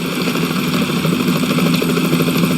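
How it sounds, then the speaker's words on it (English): Helicopter approaching in Metal Gear Solid 2, a loud, continuous engine drone with fast rotor chop and a rising whine, close and alone without voices. "Is that a chopper I just heard?"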